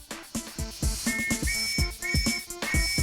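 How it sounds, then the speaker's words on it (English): Police whistles are tested with compressed air, giving a run of short, sharp shrill blasts with trilling pea rattle, repeated in quick bursts alongside mechanical clunks on a factory line. "They test each whistle with compressed air."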